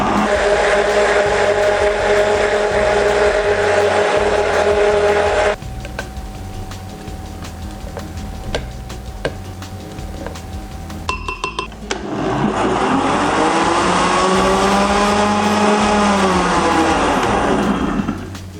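A countertop blender mixes vegan clafoutis batter with flour, almond powder and starch, running loud and steady, dropping to a lower whir midway, then surging back up with a rising motor pitch.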